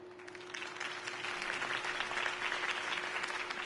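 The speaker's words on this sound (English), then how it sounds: "could have heard that applause" Steady crowd applause from the video game Batman: The Telltale Series fills the scene, dense clapping swelling slightly and holding at a loud, even level throughout, with a faint electronic hum underneath.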